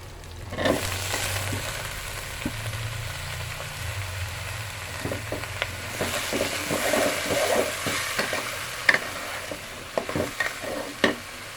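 Onion and eggplant fry in hot oil in a pan, giving a steady close sizzle with scattered stirring scrapes and clicks and no talk.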